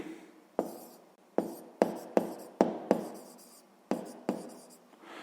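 A pen writes on paper in short, distinct strokes, roughly eight sharp scratches spaced unevenly over a few seconds, close and fairly quiet with near silence between them.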